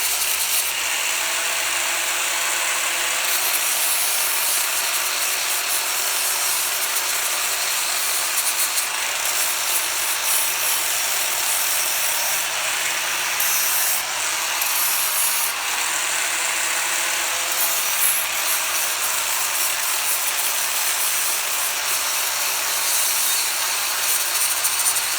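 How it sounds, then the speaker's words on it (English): Continuous loud, harsh grinding on the steel body of a 1964 Ford Fairlane race car, smoothing spots ahead of welding, steady and close for the full stretch with no talk. "We're just grinding all the spots up where we got to weld it."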